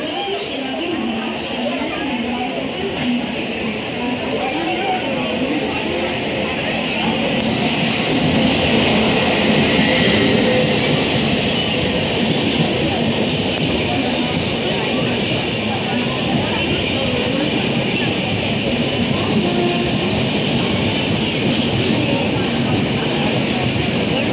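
The Konkan Kanya Express rumbles loudly and continuously as it arrives nearby in heavy rain, with rolling wheel noise, occasional high squeals, and a busy platform murmur underneath.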